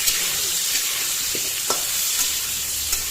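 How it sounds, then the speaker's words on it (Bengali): Potato pieces with turmeric and salt fry in oil in a wok, giving a loud, steady, close sizzle throughout, broken by a few faint clicks of the pieces shifting. "আমি কড়াইয়ের মধ্যে আলু টুকরোগুলো দিয়ে দিলাম আর দিলাম সামান্য পরিমাণ হলুদ গুঁড়ো আর লবণ গুঁড়ো"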